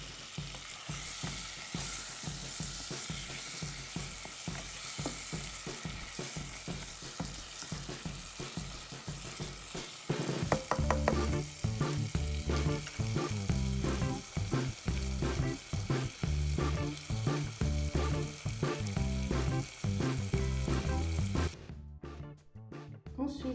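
Fresh chopped tomatoes sizzle steadily in a pan with lentils for a coral lentil and shrimp dahl, stirred with scraping strokes throughout; the frying grows denser and louder about halfway, then cuts off briefly near the end.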